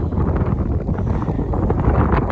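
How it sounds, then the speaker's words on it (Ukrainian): Strong outdoor wind buffets the microphone in a steady, loud roar during a stroller walk with a baby, with no pauses or voices. "Ой, який вітер."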